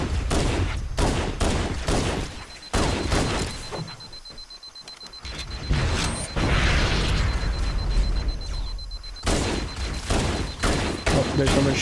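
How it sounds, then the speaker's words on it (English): Dense gunfire from the video game Halo: Combat Evolved, rapid bursts and booming shots rattling in loud clusters with brief lulls between. "There's someone shooting me on the right."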